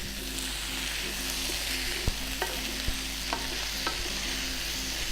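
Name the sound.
stirring potatoes in a pan for Spanish croquettes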